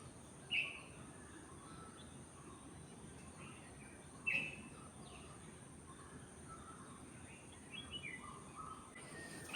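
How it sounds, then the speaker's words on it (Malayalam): Birds calling outdoors in the early morning: a few sharp, isolated chirps stand out against a faint, steady background hiss, with softer twittering further off toward the end. "അപ്പോൾ അതുകൊണ്ട് തന്നെ നല്ല കിളികളിലേക്ക് സൗണ്ട് കേൾക്കുന്നുണ്ട്"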